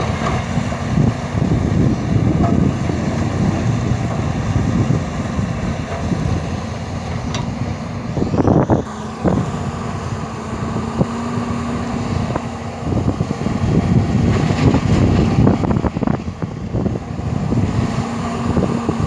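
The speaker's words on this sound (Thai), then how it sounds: "มีลมตลอดเวลาครับโอ้ถ้ามีเสียงลมเข้าไปในวิดีโอ ผมก็ต้องขออภัยด้วยนะครั" Strong gusting wind buffets the microphone outdoors near a Volvo EC210B LC excavator, a loud, continuous low rumble with uneven surges and no voices.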